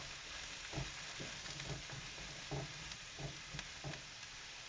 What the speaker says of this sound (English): And also add in all the mushrooms. And then just stir it around to mix it properly.